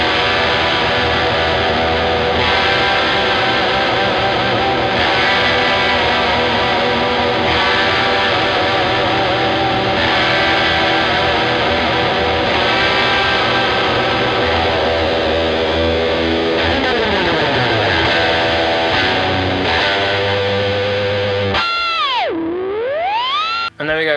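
An overdriven electric guitar drenched in delay plays an intro, dense sustained notes repeating with echoes, a descending pitch sweep near the end, then a warbling swoop; loud and continuous.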